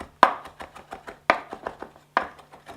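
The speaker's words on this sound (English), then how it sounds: "wait and chop this when you're ready to use it" Fresh herbs chopped with a knife for stuffed mushrooms, in three quick bursts of rapid rocking chops, each opening with a sharp, loud strike on the board and followed by lighter, fading taps, close up.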